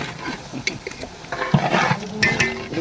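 A large pot of chicken gravy with garlic and ginger, about 15 kg, being stirred with a big ladle, giving close scraping and sloshing strokes in an uneven rhythm that grows busier and louder toward the end.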